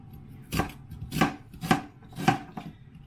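A knife chops onions for a stew on a board, four crisp separate strikes in an uneven rhythm plus a lighter fifth, close and alone with no talking.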